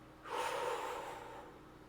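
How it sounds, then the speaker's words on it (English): One deep, sharp inhale through the nose, close and breathy, swelling quickly and then tapering off over about a second and a half. "Breathe in."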